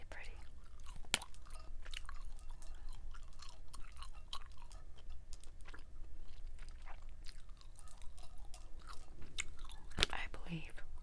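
Strawberry-lime Trident Splash snapping gum is chewed up close, with soft wet smacking and sharp occasional snaps scattered through a quiet, steady chewing rhythm.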